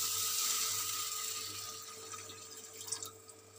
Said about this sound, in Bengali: আলুটা সেদ্ধ হবে, তার জন্য আমি 1 বাটি জল দিলাম।